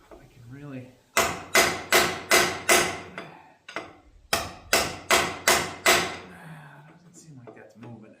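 Hammer blows on a punch driving at a seized part of a John Deere 544J loader's lift cylinder: two bursts of four or five sharp, loud metallic strikes in steady rhythm, close up, with brief talk in the gaps.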